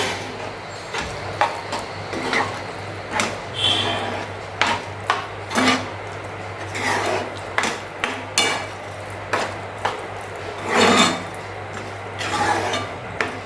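A spatula clanks and scrapes in a pan as egg kheema (anda kheema) is mixed. The loud, close knocks come in an irregular rhythm with short scraping runs between them, and no one talks.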